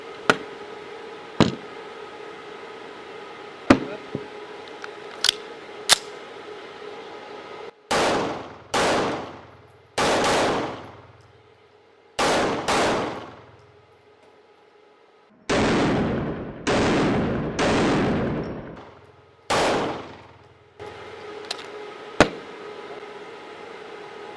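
A CZ Shadow 2 Carry pistol fired outdoors, including a double-action shot: several loud sharp reports with ringing tails, separated by gaps and mixed with brief clanks, knocks and quieter snaps.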